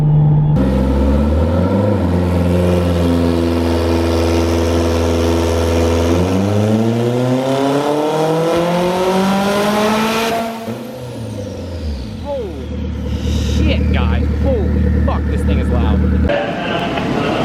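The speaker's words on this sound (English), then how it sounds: "So I'm driving up here right now." A car drives along a road, its engine loud and close as it climbs steadily through the revs, drops back on a shift, then rises again with rumbling road noise.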